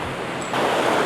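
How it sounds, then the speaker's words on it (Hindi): Fast-flowing mountain river water in an Uttarakhand valley, a dense rushing roar close by that grows slightly louder halfway through, heard alone. "ओहो, बहाव तो बहुत तेज है"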